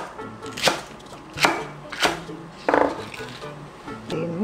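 Two large green onion stalks being chopped on a cutting board: a handful of sharp knife strikes at uneven intervals, fairly close, with a voice talking in between and under the cuts.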